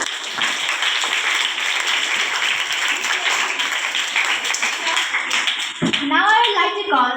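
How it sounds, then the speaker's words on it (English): Steady applause from students and guests at a school event, dense clapping throughout, cutting off near the end as a voice begins speaking. "Give a huge round of applause for them."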